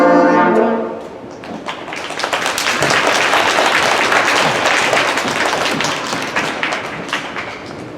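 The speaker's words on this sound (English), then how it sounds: "it's the most applause they have ever received for playing something truly awful" Parents applauding a 5th grade band at an elementary school winter concert, loud sustained clapping filling the room after a closing band chord dies away, with scattered nearby claps standing out.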